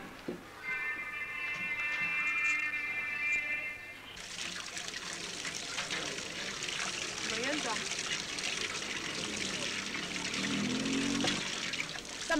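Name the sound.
water filling a container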